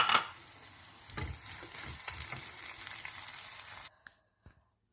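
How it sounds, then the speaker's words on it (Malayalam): Dried red chillies frying with onion, garlic and curry leaves in a pan, a steady close sizzle with stirring scrapes that cuts off abruptly near the end, leaving faint taps. "ആ കൂട്ടത്തിലേക്ക് വറ്റൽമുളക് ഇട്ട് മൂപ്പിക്കുക."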